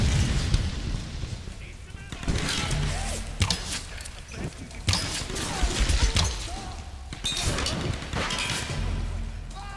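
Gunfire in the Tomb Raider video game, repeated sharp shots and booming impacts scattered across a noisy combat scene, with talking in between.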